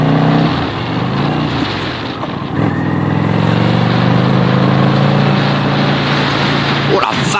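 A motorcycle rides a winding road, its engine droning steadily with rising and falling revs under heavy wind rush, close and loud throughout.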